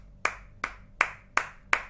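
Five sharp, evenly spaced hand claps ring out alone, praising a primary-school student's correct answer during an online English lesson.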